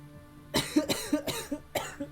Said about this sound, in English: causing me to have a coughing fit.